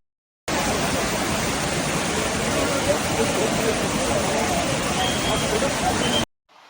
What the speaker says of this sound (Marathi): ह्यो असा आंबोलीतील निसर्गरम्य धबधबो म्हणजे किती वरून पाणी पडता बघा